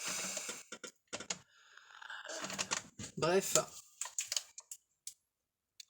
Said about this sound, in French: va pas faire des bêtises en marchant sur le clavier.